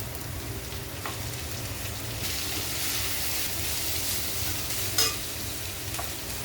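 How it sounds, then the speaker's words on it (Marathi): Carrot and capsicum stir-fried over a high flame for homemade Hakka noodles, a steady close sizzle with scraping stirs throughout and a sharper clatter near the end, no talking. "सगळं काही परतायचं आपल्याला गॅस मोठा ठेवून घालूया शिमला मिरची"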